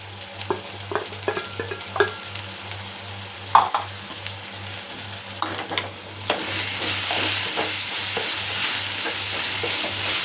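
Chopped medium tomatoes and green chillies fry in a pan for a mushroom gravy, with steady sizzling and repeated scraping stirs of a spoon, building to a louder, fuller hiss midway, close and without talk.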